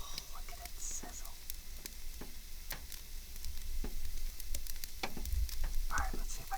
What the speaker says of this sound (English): Oh, look at it sizzle.